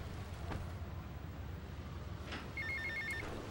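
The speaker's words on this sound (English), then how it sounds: "Oh, another phone call." A phone rings in the video game GTA Vice City with a short electronic trill burst, faint under low rumbling game background noise.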